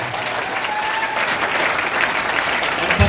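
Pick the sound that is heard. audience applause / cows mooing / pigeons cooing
audience applause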